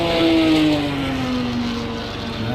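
A race car engine in Project CARS 2 roars past during an online endurance event on the Daytona road course. The loud, sustained drone falls slowly in pitch as the car passes and moves away.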